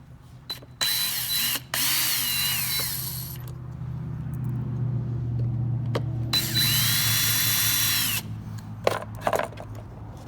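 A power tool whirs on the MAF sensor bolts of a 2017 Ford Mustang 5.0 with a Roush intake, two loud close bursts of high-pitched spinning with clicks and handling noise between them.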